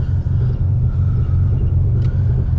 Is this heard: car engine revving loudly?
yes